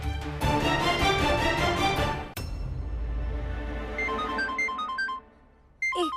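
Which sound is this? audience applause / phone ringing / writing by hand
phone ringing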